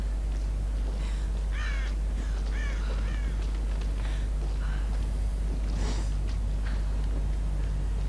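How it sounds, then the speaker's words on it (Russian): Harsh, repeated squawking calls from a parrot in a Tomb Raider game, several bursts over a steady low hum of game background noise, with no talking. "И мой попугай сходит с ума."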